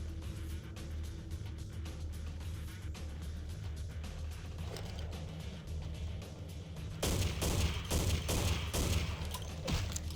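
Rapid gunfire crackles in the video game Vampire: The Masquerade – The Final Nights mod in a sewer, with a steady stream of shots under a low droning background that swells louder in the final few seconds.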